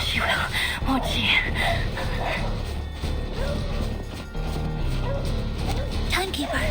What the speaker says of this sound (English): I can't think right now because all I hear is barking